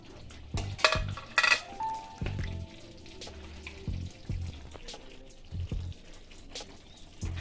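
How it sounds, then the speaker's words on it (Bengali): Fried katla fish goes into boiling kalia gravy in a pan, bringing a series of close, soft splashes and clattering knocks over a low, continuous simmering bubble. "ঝোলটা ফুটে এসছে আমি এর মধ্যে দিয়ে দিচ্ছি ভেজে রাখা মাছগুলো দিয়ে আমি একটু ফুটিয়ে নেব"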